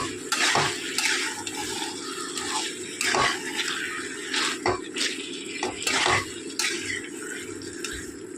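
Chicken masala with Kashmiri chili powder being stir-fried in a pan, with frequent scraping and clinking of a utensil against metal over a low sizzle, close and fairly loud.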